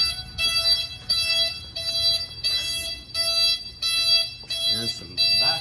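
Reverse backup buzzer on a dump truck under repair sounds in steady, evenly spaced beeps, about one per second, loud and close, with engine rumble underneath and a short burst of other noise near the end.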